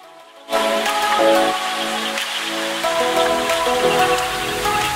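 Steady, dense heavy rain hisses across a surface on a mountain at Chum Phae, Thailand, rising abruptly after a quiet start and holding loud and even with no voices.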